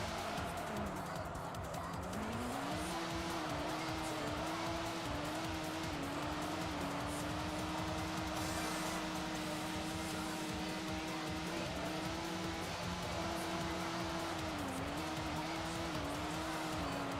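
Race cars drive in the Sega Touring Car video game, with a steady loud engine drone rising and falling in pitch as gears shift, and faint tire squeal underneath.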